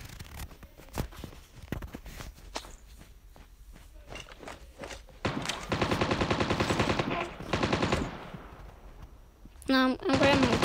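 Video game gunfire: scattered single shots and footstep-like clicks early on, then sustained rapid automatic bursts, with a short loud burst near the end, heard under occasional talk.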